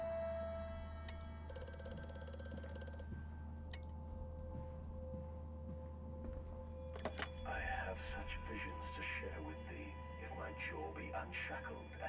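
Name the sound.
telephone ringing in video game Amnesia: A Machine for Pigs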